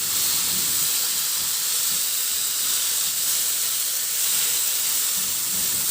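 Carrots stir-fried and mixed in a pan give off a steady, loud, even sizzling hiss that runs without a break and with no voice over it.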